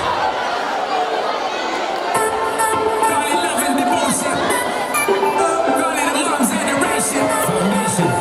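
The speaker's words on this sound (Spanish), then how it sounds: "fuerte aplauso, cuarto de eso a Animais" Lively crowd noise at a school Carnival (Entroido) parade for third and fourth year secondary students, with chatter, shouts and cheering held steady throughout and children's voices rising over the din.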